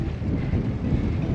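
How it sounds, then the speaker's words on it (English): Steady low wind rumble buffets the microphone, a continuous dull roar with no other sounds on top. "Getting a bit windy."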